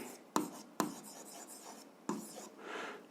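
A marker or chalk writes on a board during an algebra lesson, with a few sharp taps as it touches down followed by soft scratchy strokes, close and alone.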